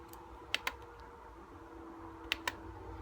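Computer keyboard keys pressed in two quick pairs of clicks, close but fairly quiet, over a soft steady room hum with no talk.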